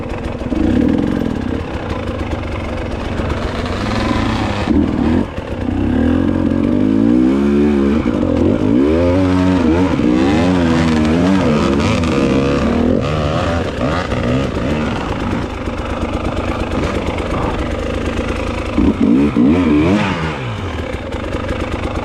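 An enduro dirt bike is ridden along a trail during a race, its engine loud and close throughout, revving up and down with rising and falling pitch over a steady clattering drone.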